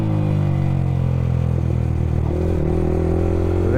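Yamaha R15 V3 motorcycle fitted with an Akrapovic R9 exhaust, heard up close as a loud, steady engine drone with crackling pops and shifting pitch partway through, on a dark road at night.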